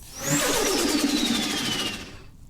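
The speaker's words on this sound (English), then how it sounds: "So you hear the air come out" Pressurized air hissing out of a foam sprayer as its dial is turned, a loud, close, continuous rushing hiss with a slowly falling whistle tone that lasts about two seconds and then cuts off.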